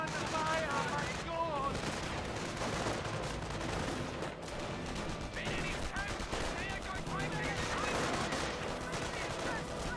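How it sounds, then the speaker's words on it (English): Dense battlefield gunfire from the Company of Heroes video game, including an MG42 machine gun, rattles continuously beneath music and in-game effects, busy and layered throughout. "Bar rack squads advancing and engaging the MG42."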